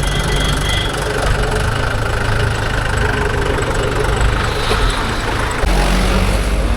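A vehicle engine runs loud and close in a steady diesel rumble at a worksite where lake soil is being loaded, and its tone shifts near the end as the vehicle pulls away.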